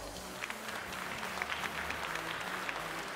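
An audience at a Tarentaise cattle breed show applauds steadily, a dense wash of many hands clapping from a moderate distance that continues evenly throughout, without any voices standing out.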